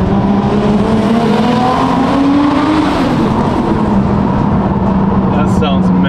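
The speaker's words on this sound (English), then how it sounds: "You gotta love the external wastegate sound" Nissan R34 Skyline with a stock RB25 engine, Tomei camshafts and an external wastegate vented out the side, roaring loud and close in a continuous revving drone that swells and eases throughout.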